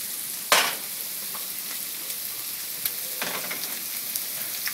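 Onion, garlic, green chilli and curry leaves sauté in a pan for a jackfruit seed stir fry, with a steady soft sizzle and a few sharper crackles and pops. One louder burst comes near the start.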